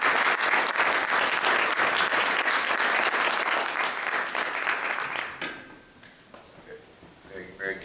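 Audience applause at a policy briefing, loud and sustained clapping for about five seconds, then tapering off into scattered claps and quieter room noise.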